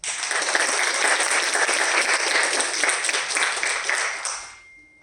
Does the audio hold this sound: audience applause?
yes